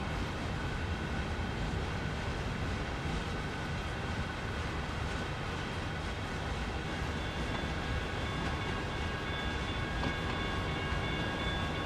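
Train running in the Train Sim World 5 game on the Framingham switching route, a dense steady rumble of rolling wheels and rail noise with faint tonal hums, loud and continuous with no speech.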